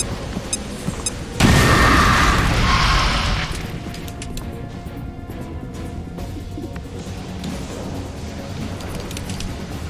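A grenade blast in the XCOM: Chimera Squad video game, one sudden loud crash followed by a roaring burst that decays over a couple of seconds into lower background game sound.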